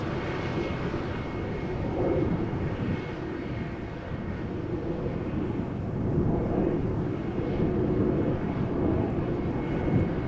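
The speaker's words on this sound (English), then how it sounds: "the next airplane is a CRJ 900 from Lufthansa, arriving from Munich" A Lufthansa CRJ 900 airliner arriving at Amsterdam Schiphol from Munich, a steady broad jet roar with a low rumble that swells slightly as it passes, loud and continuous with no voices.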